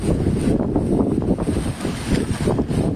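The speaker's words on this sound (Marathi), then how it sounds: "पाहूया भयंकर वारा आहे" Strong wind at the Amboli waterfall, Sawantwadi, roaring and buffeting the microphone continuously, loud gusty rumble with no voices.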